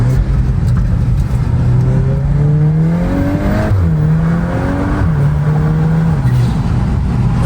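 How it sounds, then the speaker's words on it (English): A VW MK8 Golf R with an intake and Stage 1 tune, hood open, revs hard on launch control, with rising and falling engine tones, loud turbo whooshing and whistling close by. "launch control with the hood open"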